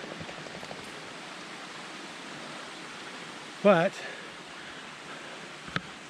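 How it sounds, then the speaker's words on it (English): Constant broadband rush of a flowing stream fills the background, with a brief voice and a short knock breaking through partway. "found some moving water."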